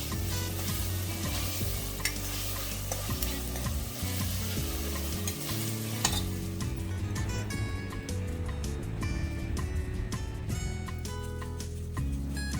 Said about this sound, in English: Adding 1 spoon of ginger garlic paste and frying it until the raw smell disappears.